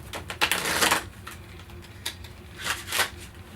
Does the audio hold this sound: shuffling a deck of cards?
yes